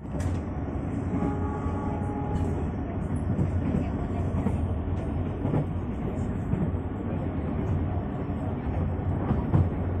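An Indonesian commuter train pulls out of Cikarang station, heard from inside as a steady low rumble with rail noise throughout, fairly quiet and continuous.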